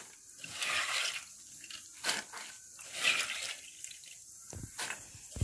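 Water from soaked green gram is drained off, making quiet splashes, trickles and drips in irregular bursts, with a few louder pours near the end.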